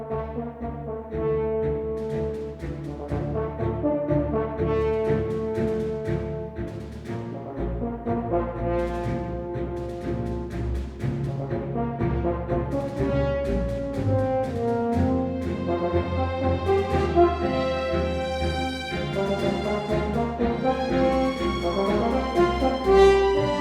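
Orchestral horns from the VSL Synchron Prime library play sustained, swelling brass chords and melodic lines over a snare drum pattern, full and continuous without speech.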